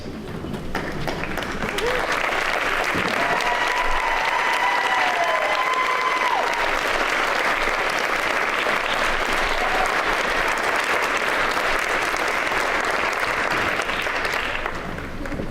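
Sustained audience applause at a fifth grade promotion ceremony as student groups stand, dense clapping and some cheering at even loudness for about fifteen seconds, with faint voices and whistles mixed in.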